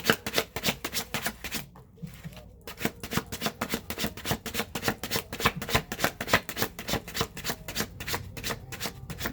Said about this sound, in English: I do shuffle my cards all the way